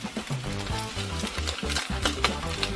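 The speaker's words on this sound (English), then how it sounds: "I'll let this fry on high heat for like 5 minutes" Fried rice frying on high heat, a steady loud sizzle with stirring and scraping throughout, under a repeating low tonal hum, no talking.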